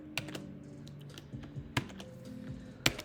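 Keystrokes on a computer keyboard while writing Java code, a quiet scattering of separate taps with uneven pauses and a sharper final click, alone with a faint low hum beneath.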